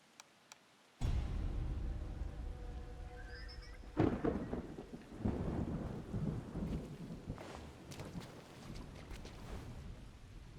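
Steady rain with deep rumbling thunder fills a video game scene in Sifu, a low roll building from a sharp crack, with faint tonal game sounds early on and no talk.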